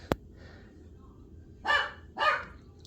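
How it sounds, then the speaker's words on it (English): A dog barks twice from a short distance away, two loud separate yelps after a sharp click, with quiet room tone in between. "out there barking"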